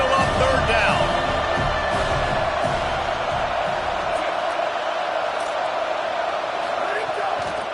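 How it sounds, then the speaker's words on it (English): A home crowd roars at a college American football game as the defense tries to get off the field, a loud, sustained stadium din that gradually eases, heard with a commentator talking over it. "Here comes this home crowd as the defense tries to get off the field."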